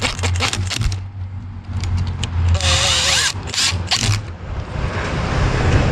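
Tool working bolts on a Mercury 1.0L outboard boat engine, clicking and brief mechanical whirring bursts with scraping metal, near and fairly loud against a steady background hum.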